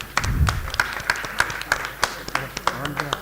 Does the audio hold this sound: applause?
yes